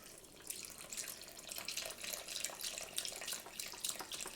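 Beef broth poured into a pot of leftover prime rib chili, a soft continuous splashing trickle of liquid, faint and close, with no voices.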